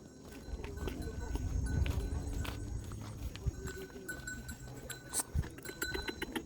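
Horse hooves clip-clop on a farm in Davao City during horseback riding, with irregular knocking steps under steady outdoor background noise while people talk nearby.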